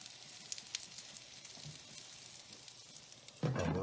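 Chive and egg buns fry in a pan with a faint, steady sizzle and crackle. Near the end, a sudden louder burst of sizzling bursts out.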